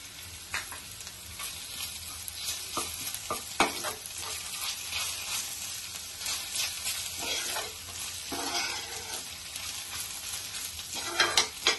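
Browned onion with ginger-garlic paste sautés in a pan, a continuous close sizzle with repeated scraping and tapping from a stirring spoon throughout.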